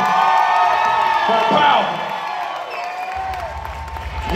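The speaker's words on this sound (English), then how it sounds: "Can we clap it up for the beautiful?" An audience at a live comedy and music show claps and cheers, a dense wash of applause and whoops that swells then fades, with a performer speaking over the crowd.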